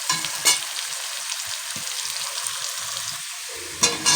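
Pabda fish frying in a pan, a steady loud sizzle with occasional brief bursts of crackle, close and continuous with no voices.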